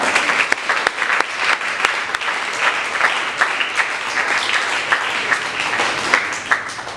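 Applause from a church congregation during a service, sustained dense clapping throughout, fairly loud and close, with no talking over it.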